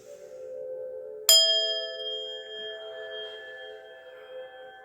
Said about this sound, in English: you're going to do a loud ring of the bell now just to get rid of that energy and clear it out